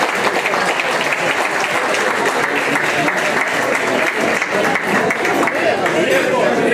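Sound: audience applause

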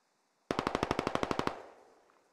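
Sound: gunfire from friendly players in the video game Squad (SquadOps)

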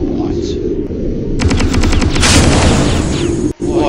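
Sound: gunfire shooting in a video game

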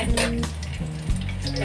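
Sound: onions frying in pan

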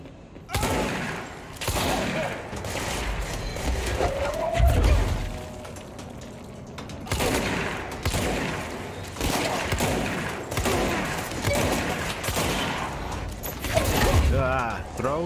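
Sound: shotgun gunfire in the video game Control

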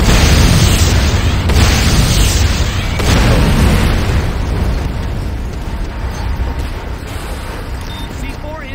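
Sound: C4 explosive detonating in the video game Renegade

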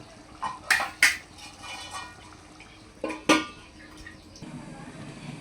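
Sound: placing a lid on the curry pot

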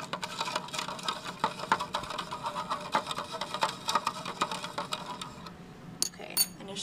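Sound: stirring magnesium sulfate and water solution

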